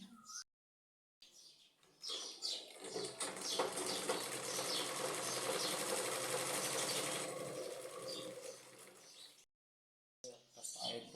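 A sewing machine running a long straight seam in fabric: a steady close mechanical whir with a fast stitching rattle for about eight seconds, bounded by brief silences, with soft voice sounds before and after.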